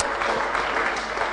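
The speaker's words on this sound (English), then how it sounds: "Applause." An audience at an award ceremony gives a short burst of dense, steady applause that fills the room, loud and continuous.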